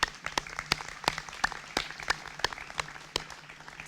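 Audience applause at an outdoor groundbreaking ceremony for the CityArchRiver project, a modest crowd clapping steadily with sharp individual claps standing out, no voices over it.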